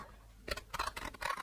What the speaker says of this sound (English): now I want to cut just following those wiggly lines